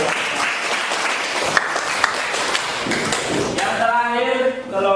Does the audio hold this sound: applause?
yes